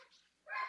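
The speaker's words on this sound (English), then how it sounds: "if the dog barking bothers anybody" A puppy barks indoors, a faint short yip followed by a slightly louder single bark, heard from a distance in a quiet room.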